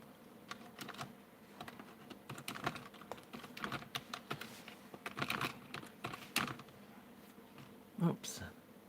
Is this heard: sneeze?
no